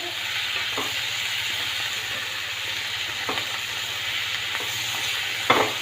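Soya chunks fry in a pan with tomato and garlic paste, making a continuous, even sizzle with a few sharp spoon scrapes and taps while being stirred.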